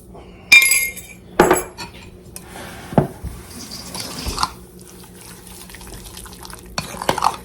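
Food being mixed in a bowl with a utensil in a home kitchen, heard as scattered clinks, taps and scrapes with quiet, wet stirring between them and no talking.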